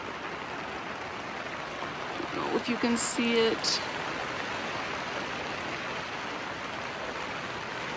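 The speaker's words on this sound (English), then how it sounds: "Hear the rain?" Steady rain falling outside on a rainy day near a yurt, an even broadband hiss throughout, with a person briefly speaking over it partway through.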